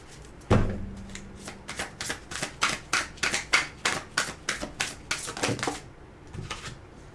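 Tarot cards are shuffled in a quick run of crisp riffling flicks after an opening thump, steady and close, with a short pause before a final few snaps.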